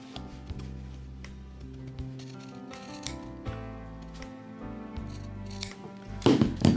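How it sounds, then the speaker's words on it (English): Scissors snip through fabric fringe in a steady series of close, crisp cuts, ending in a louder burst of rustling and handling noise. "I'm going to cut off some of that fringe as well"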